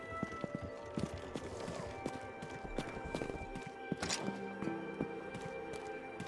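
Horse hooves clip-clop in a steady walking rhythm in the video game Rustler, fairly quiet, with a soft game-like ambience and a few brighter clanks.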